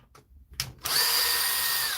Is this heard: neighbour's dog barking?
no